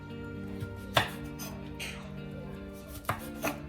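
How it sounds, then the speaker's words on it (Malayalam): A knife chops cassava into thin sticks on a cutting board, with a few distinct, close taps spaced unevenly against a quiet background hum. "ഇതുപോലെ എല്ലാ കപ്പയും മുറിച്ചെടുക്കണം"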